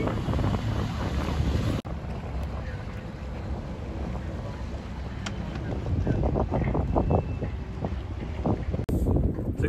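Wind buffets the microphone over a steady low engine rumble and rushing water as an RNLI lifeboat moves through the sea on a training run, with wave splashes building toward the end.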